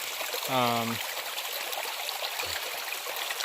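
A river runs steadily along a wilderness hiking trail, a continuous close rushing wash of water, with a brief tonal sound and a low thump breaking in over it.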